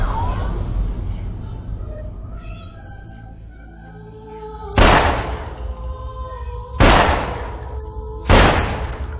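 Three sharp gunshots ring out a couple of seconds apart, each loud and abrupt with a short decay, over a low rumbling background.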